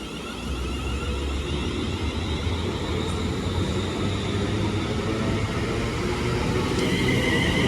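A London Northwestern Rail class 351 electric train rushes past at Watford Junction, a steady loud rolling roar with rumbling wheels that holds for several seconds, close by with no voices.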